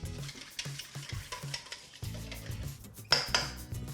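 A whisk beats psyllium husk into an activated yeast mixture in a bowl, making rhythmic scraping and tapping strokes with a short pause midway and a sharper clink near the end.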